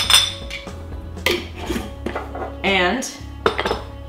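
A tablespoon knocked against a cup to shake off cream or butter while making bulletproof tea, giving a few sharp metallic clinks under a man's speech.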